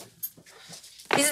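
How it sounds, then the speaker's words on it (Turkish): A dog whimpers and pants in brief bursts, ending in a louder, sharper yelp-like outburst, heard close with faint human voices around it. "Köpek."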